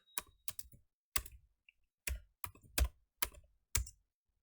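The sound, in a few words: typing a Django command on a computer keyboard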